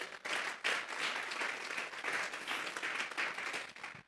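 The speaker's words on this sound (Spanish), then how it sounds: "Vamos a darle un fuerte aplauso pues al Señor." A church congregation at a Sunday afternoon service gives a strong round of applause, a dense, steady wash of clapping that fills the whole stretch at moderate loudness without letting up.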